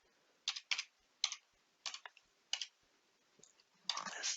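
Computer keyboard typing as a furniture part name is entered in design software, a few quiet, separate clacking keystrokes in short bursts, ending in a quicker flurry of keys.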